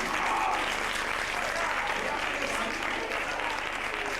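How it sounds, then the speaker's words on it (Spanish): Steady applause from a theater audience for the actors playing dwarves at the close of a children's stage show, dense and sustained clapping throughout. "Un aplauso a los enanos."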